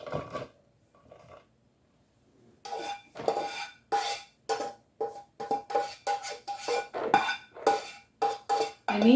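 Tater-tot casserole is spooned and scraped from a dish into bowls, with a run of quick clinks and scrapes of utensil on dishware, close and fairly loud, following a short quiet lead-in with a couple of softer knocks.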